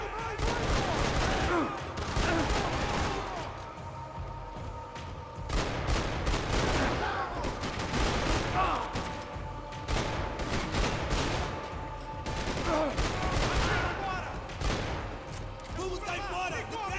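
Gunfire in a video game rings out as a string of rapid volleys roughly every two seconds, moderately loud over a constant background of game noise.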